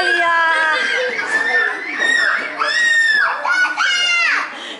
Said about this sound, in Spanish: ¡Hola, chicos! ¡No gritéis!